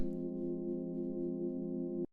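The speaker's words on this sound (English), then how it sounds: "this is a really nice sort of just deep, kind of like background chord" A deep, soft sustained FM synth pad chord holds steadily for about two seconds, then cuts off abruptly.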